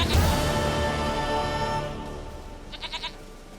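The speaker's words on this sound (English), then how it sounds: "Goat of mine, dearest" A goat in The Witcher video game gives a loud, harmonic bleat at the start that fades out, followed by a quick rhythmic series of short, fainter bleating pulses near the end.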